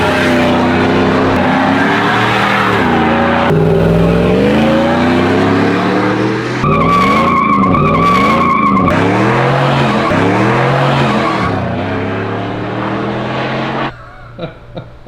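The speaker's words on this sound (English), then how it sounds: "This is making 400 horsepower at the rear wheels, which means we might be able to do a burnout or two today." A supercharged 2009 Chevrolet Silverado shop truck roars loudly through a burnout, engine revving and tires squealing in long sustained bursts, fading somewhat toward the end.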